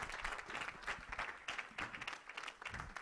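Congregation in a church applauding together, a steady wash of many hands clapping throughout with brief swells, fairly close and filling the room, with no speech over it.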